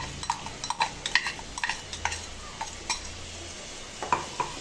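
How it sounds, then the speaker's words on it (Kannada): Masala of blended tomato and green chili paste frying in a pan for rajma curry, with a spoon scraping and clinking against the pan in an irregular stirring rhythm over a faint background sizzle. "ಇವಾಗೆಲ್ಲ ಚೆನ್ನಾಗಿ ಮಸಾಲೆ ಟೊಮೊಟೊದ ಹಸಿ ಸ್ಮೆಲ್ಲು ವಾಸನೆ ಹೋಗೋ ತನಕ ನಾವು ಚೆನ್ನಾಗಿ ಫ್ರೈ ಮಾಡ್ಕೊಬೇಕಾಗತ್ತೆ"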